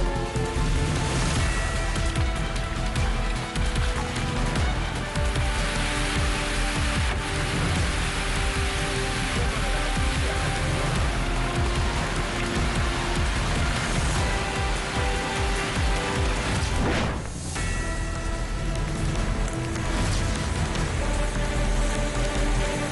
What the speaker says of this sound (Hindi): उड़ीसा के कई जिलों में भारी बारिश की वजह से अलर्ट जारी है।